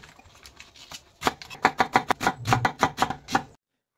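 Cabbage and carrot being chopped on a board, about a dozen sharp, close knife strikes in quick, fairly even rhythm after a quiet start, ending abruptly.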